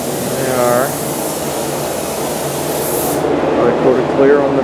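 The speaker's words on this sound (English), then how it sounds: "Sean's spraying some clear." A spray gun hisses steadily as clear coat goes onto car parts, including the backs of headlight doors for a 1967 Ford Mustang, with a voice talking briefly over the continuous spray before it cuts off.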